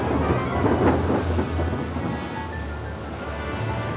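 Thunder rumbles through steady heavy rain in a downpour, a deep roll swelling early then fading under continuous loud rainfall with no voices.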